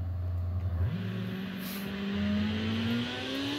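A BMW M5's engine in a Mario Kart video game race: a steady, synthetic motor drone that drops and then climbs slowly in pitch, heard alone with no talking.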